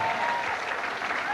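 A bowling crowd at the 1991 Goldpin Classic stepladder match claps for a good spare, a steady short burst of applause from an indoor audience.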